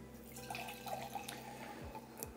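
Lychee and passionfruit mead is poured into a glass, a faint, close trickle of liquid with soft drips over a quiet background.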